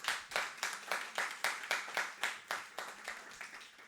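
A congregation at a Sunday church service claps in a steady, rhythmic beat, roughly three claps per second, evenly spaced and moderately loud, with no voices over it.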